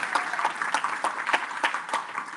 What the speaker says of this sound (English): we must give a big round of applause for Judge again